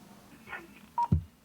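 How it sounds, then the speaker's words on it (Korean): A homemade anti-theft device dials a mobile phone, giving a brief touch-tone beep followed by a low thump, close and clear, with no talk. "일단 전화가 휴대폰으로 잘 연결되는지 시험을 해보는데"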